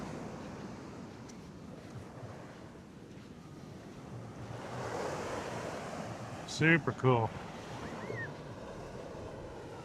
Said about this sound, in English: Compared to San Clemente, it's a lot bigger waves.